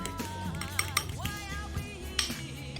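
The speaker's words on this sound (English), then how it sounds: "Just use a fork. Mix them together." Light metallic clinks and scrapes of a fork mixing ingredients in a bowl, with a few sharper taps over a steady background of music.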